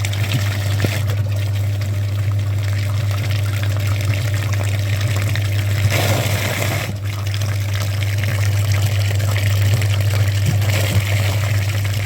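Water runs steadily over a clogged cooling-system filter from a Daewoo Lanos or ZAZ Sens, a continuous close splashing rush over a low, constant hum.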